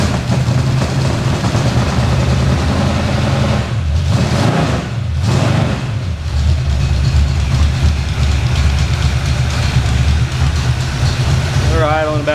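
A newly built car engine idles steadily at around 900 to 1,000 RPM, a loud continuous low rumble with a brief dip partway through, heard with people talking.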